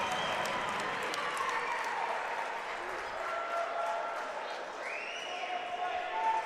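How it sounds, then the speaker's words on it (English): A crowd cheers for Team USA after a goal at a USA vs Canada blind hockey game, a broad roar of cheering and clapping in an arena that carries on steadily over several seconds. "listen to this crowd cheer on Team USA"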